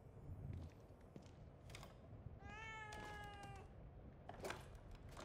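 A cat meows in the survival horror video game The Evil Within 2, with a few separate meows, clear and fairly close over a low ambient game background and no speech.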